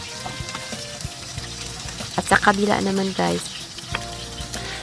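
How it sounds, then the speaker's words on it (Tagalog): Flour-coated cod fillets fry in hot oil with a steady crackling sizzle, while someone talks over the sizzle for the whole stretch. "pag nakabalot na siya ng flour, madali lang siyang prituhin"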